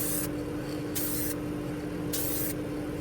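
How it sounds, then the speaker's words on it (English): Aerosol spray can hissing onto a car body panel to blend fresh paint, three short bursts over a steady background hum, close and fairly loud. "Just spray a little thing here just to make sure it"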